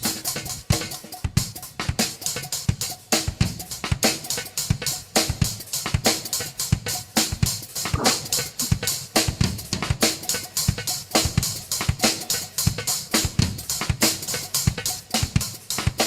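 A drum kit plays a polyrhythmic groove fitting a bar of seven into the time of nine: crisp, rapid cymbal and snare hits over kick drum, dense and evenly driving, close and loud with no voice.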